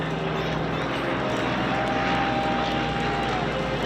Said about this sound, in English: Look at the Corsair now. The gear are down, the tail hook is down. It's ready to come aboard.